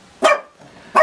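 A dog gives two sharp, close barks separated by a short pause, loud and clear against a quiet background.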